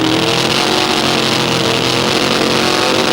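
A drag racing car engine revving hard at the start line of a 1995 ANDRA Top Alcohol drag meeting, a loud, sustained, dense roar with no pauses.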